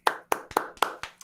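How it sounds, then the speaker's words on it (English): A short burst of hand clapping as applause, about six distinct claps in uneven rhythm, close and moderately loud, with no talking over it. "Round of applause."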